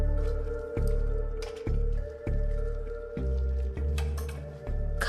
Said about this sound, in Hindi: खाल इस तरह से निकल जाती है।